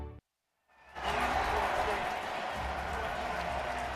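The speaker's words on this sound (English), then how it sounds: "The crowd reacting to the score of the Dolphins-Eagles game, 20-16." A stadium crowd at an NFL game stirs and roars in reaction to another game's score, a loud, sustained wash of cheering that swells after a brief silence and holds steady.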